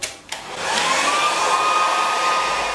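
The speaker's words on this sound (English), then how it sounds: "apparently if you use a hairdryer on it, it shouldn't take it off" A hair dryer, used on painter's tape on a freshly painted bedroom wall, blows in a steady, loud whoosh with a faint whine, starting after a couple of brief clicks and running continuously.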